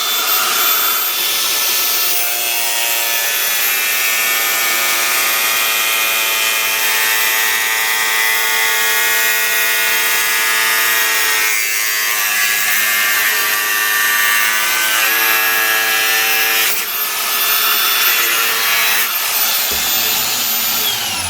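Power tool cutting a motorcycle sprocket cover on a DR200 project, a loud sustained whine with shifting pitch and harmonics running almost unbroken, cutting off near the end.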